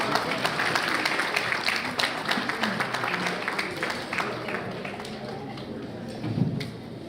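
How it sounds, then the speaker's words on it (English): An audience at an alumni speeches and awards gathering applauds a guest called to the stage. The clapping is loud, dense and sustained, with crisp individual claps standing out, and tapers slightly toward the end. "Please give a big round of applause."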